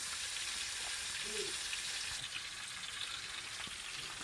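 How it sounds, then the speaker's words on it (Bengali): Fresh pond fish, four pieces, frying in hot oil in a pan at night, giving a steady broadband sizzle that stays even and continuous throughout, with no talking. "এই যে এখন চারোটা দিয়ে দেওয়া হয়েছে, এভাবে করে ভালো করে ভেজে নেওয়া হবে।"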